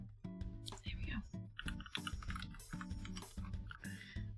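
Someone types quickly on a new computer keyboard, producing a dense run of quiet, crisp key clicks close to the mic, with a faint soft voice murmuring underneath.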